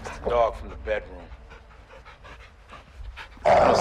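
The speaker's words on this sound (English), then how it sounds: "Dog from the bedroom." Dog panting in Call of Duty: Modern Warfare II, quick rhythmic breaths at close range, mixed with game voices talking and a sudden loud burst at the end.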